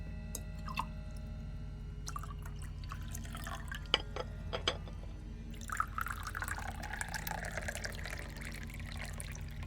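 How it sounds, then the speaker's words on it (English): Liquid poured in the video game Midnight Postman, a steady trickling, splashing pour over a low game hum, with a few sharp drips and clinks before it, fairly quiet and alone without talk. "Pouring of liquid."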